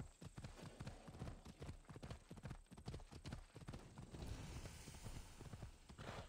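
Horse hooves clip-clop in a steady rapid rhythm on a mount ridden in Assassin's Creed Odyssey, close and continuous throughout with game ambience beneath.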